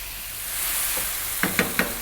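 Chopped regular white mushrooms sizzle steadily in a pan over above-medium heat, with three sharp scraping stirs of a utensil near the end breaking through the constant frying hiss.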